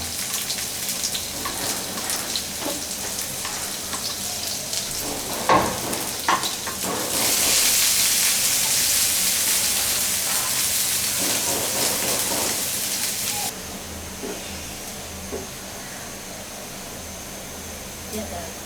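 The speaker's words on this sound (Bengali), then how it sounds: "এখন আমি একটা প্যানে তেল গরম করে তার মধ্যে কিছু পেঁয়াজ রসুন আর একটা শুকনা মরিচ এগুলা একটু ভেজে নিব" Onion, garlic and a dried chili frying in hot oil in a pan for a lentil dal tempering; the hissing sizzle swells loud midway, then settles, with a voice speaking at times.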